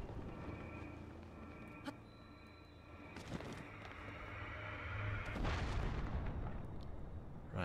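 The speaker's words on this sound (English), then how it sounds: "Well, we know what those cannons are for." Heavy booming cannon blasts from a video game, a sharp shot near two seconds and a larger burst around five, over a low rumbling game backdrop.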